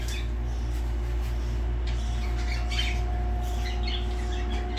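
A tame aviary bird gives a few squawks and chirps over a steady low hum of background noise, close by and moderately loud.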